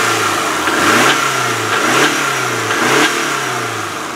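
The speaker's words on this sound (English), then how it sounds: "Let me rev it up for you." A 2002 Subaru Forester L wagon's all-wheel-drive boxer engine revs up three times in rising and falling sweeps from a rough idle, close and loud with no talking.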